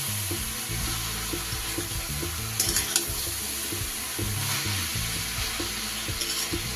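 Cabbage cooks in a pan with a continuous wet sizzle, while a spatula stirs and scrapes against the pan in irregular bursts, close and fairly loud.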